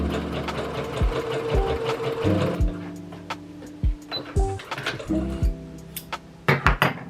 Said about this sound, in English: I'm happy to be back sewing with fabric